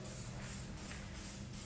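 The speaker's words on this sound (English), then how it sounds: "a little bit of an oil spray or whatever your favorite product is to break down hold" An oil-based hair spray is spritzed in about five quick, even hissing bursts at a steady rhythm, quiet and close.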